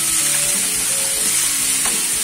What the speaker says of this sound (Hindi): इसमें हम 2 बड़े टमाटर काट के रफली हमने काटा है और इसे भी हम भून लेंगे।